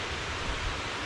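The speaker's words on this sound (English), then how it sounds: "You can hear the brook raging right now" A brook rushes through wet woods after hard rain, a steady, close, full roar of water with no break, alone without voices.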